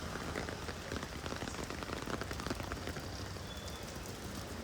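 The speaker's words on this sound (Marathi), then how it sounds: "एवढा पाऊस पडतोय" Heavy monsoon rain pours onto a busy street, a dense, steady wash of drops and spatter with no pauses, moderately loud throughout.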